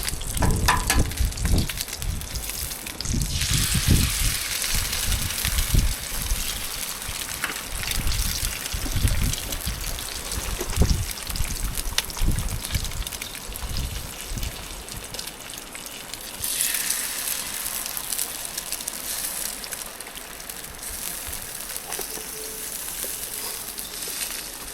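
Moose sausages and bacon frying on a Blackstone griddle outdoors at a Newfoundland cabin, a continuous crackling sizzle mixed with gusts of strong wind, loud at first and then easing somewhat.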